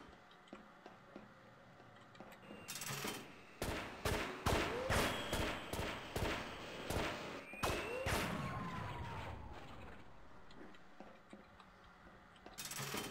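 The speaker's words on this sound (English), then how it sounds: "we're in the middle of a firefight!" A firefight in the game Half-Life brings a string of sharp, loud shots in quick irregular succession over several seconds, with tonal sweeps and ambient hum before and after.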